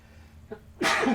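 A single loud sneeze erupts after a short sharp inhale, close and abrupt.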